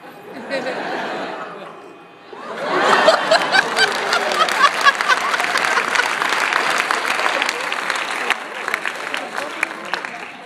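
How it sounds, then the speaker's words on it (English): At a 2011 regional science fair talk in Prince George's County, an audience bursts into lively clapping mixed with chuckles and laughter, lasting about eight seconds after a few seconds of a voice speaking. "if you guys hadn't been clapping"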